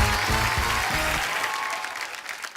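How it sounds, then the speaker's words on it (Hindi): Loud studio audience applause for a guest at a Hindi comedy talk show, dense clapping up front that thins and fades over a couple of seconds, with no voices over it. "जोरदार तालियां एक बार राहत इंदौरी साहब के लिए।"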